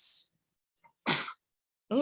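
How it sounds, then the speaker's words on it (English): A baby's small, sharp sneezes burst out in quick succession, separated by brief silences, close and fairly high-pitched. "baby sneezes"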